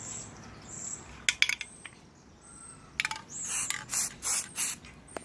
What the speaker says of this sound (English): I'm going to spray my black.